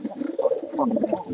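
A released pigeon coos up close, soft rolling low calls repeating in a quick burst over a brief moment.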